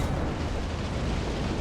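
A loud, close explosion in the Elden Ring video game, a dense sustained roar of broadband noise that fills the short moment without letting up.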